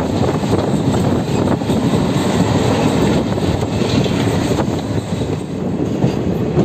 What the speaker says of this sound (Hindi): ये हमारी ट्रेन उसलापुर प्लेटफॉर्म पे एंटर हो रही है